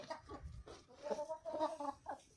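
Rhode Island Red rooster and Black Australorp hens make soft, short clucking sounds in a quick irregular series, fairly close but low in level.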